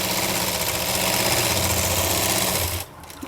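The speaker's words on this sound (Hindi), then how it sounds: "इस तरह से हम अपनी बेल्ट को बीच में से फोल्ड करते हुए जाएंगे और इसके राउंड शेप में हम सिलाई लगा लेंगे" Electric sewing machine stitching around the rounded edge of a fabric belt folded down the middle, for a party-wear dress; a steady, close motor whir runs continuously for almost three seconds, then cuts off abruptly.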